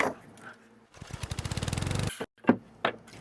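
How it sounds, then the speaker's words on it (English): A miter saw spins up and cuts through a leftover piece of cedar, a rising pulsing whine for about a second followed by a couple of sharp knocks as the wood is handled, close and loud. "get this cut over at the miter saw"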